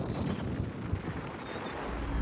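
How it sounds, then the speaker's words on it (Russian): Wind gusts outdoors in Muscat, Oman, buffeting the microphone with a continuous low rumble and hiss and no voices. "Ветер поднялся."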